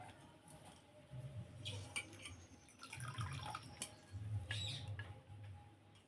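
Drumstick flowers rinsed under running water in a home kitchen, with splashing that swells and fades in several bursts over a low steady hum, no talking.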